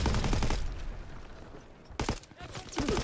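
Gunfire in the World War II shooter Call of Duty: WW2 during an online multiplayer match: dense, loud bursts of shots at the start, a short lull, then heavy firing again. Muffled voices may sit under the shooting.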